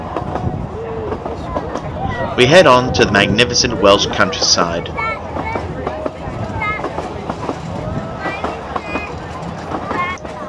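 Talyllyn Railway No. 2 steam locomotive Dolgoch hauls a narrow-gauge train through Welsh countryside, a steady rolling rumble with rail clatter running throughout beneath continuous close narration.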